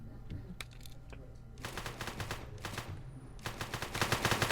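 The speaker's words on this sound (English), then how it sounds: "There's lots of shooting going on" Gunfire during a heist in a video game: a few sharp, faint shots at first, then several dense rapid bursts that grow somewhat louder toward the end.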